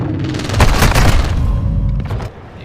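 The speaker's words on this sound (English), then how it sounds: "You are taking effective fire." Gunfire and a heavy boom in the video game Call of Duty Warzone DMZ, a loud dense blast with rumbling tail and a few sharp follow-up shots, close and dominant.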